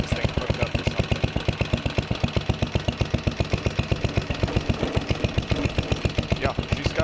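Vintage 69-year-old Briggs & Stratton 23A-FB engine running unloaded, a steady, rapid, evenly spaced thumping exhaust beat at moderate volume, close by, with a voice talking over it.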